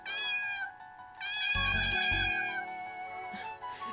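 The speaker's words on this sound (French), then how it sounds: "Oh, il y a un petit chat." Small cat meowing in The Gray Garden video game, two long, high, whining meows, the second joined by a low droning tone, then a soft fade.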